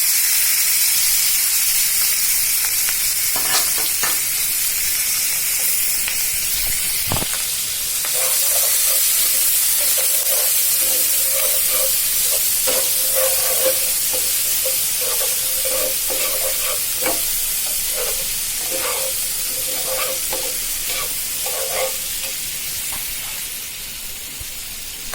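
Sliced onion and garlic frying in oil for koi fish bhuna, a loud steady sizzling hiss with scattered clicks and stirring knocks, close up, fading slightly at the end.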